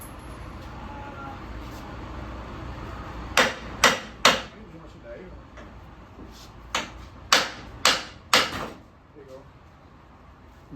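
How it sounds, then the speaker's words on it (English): Hammer blows on metal during a car spring replacement, two clusters of three hard, ringing strikes close by, with traffic hum from outside. "You need a bigger hammer? Where's the bigger hammer, Rico?"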